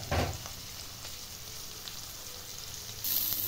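Onion and green chili frying in hot oil with a bay leaf for a vegetable keema curry, a steady soft sizzle running throughout with a brief louder burst at the start and another near the end.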